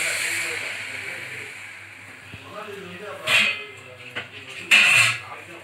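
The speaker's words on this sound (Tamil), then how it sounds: "தண்ணி கொஞ்சமாக இப்படி ஊற்றிக்கணும்" Water is poured into a hot pan of simmering kuzhambu, giving a steady hiss and sizzle that fades, then two short sharp bursts of spitting steam, with a person talking softly underneath.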